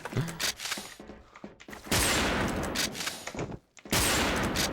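Rapid gunfire bursts in the Wolfteam shooter game, loud and dense, with repeated fusillades separated by brief gaps and a few scattered mechanical clicks.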